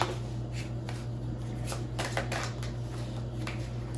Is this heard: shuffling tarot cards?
yes